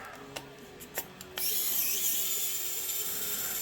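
Screws come out of an Ender 3 3D printer control board mounted on metal: several light ratcheting clicks, followed by a steady, faint, high-pitched whir from a small powered screwdriver.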